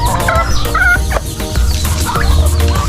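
Several chickens cluck and chatter continuously at close range, with a rooster-like call rising briefly among the busy, overlapping flock noise.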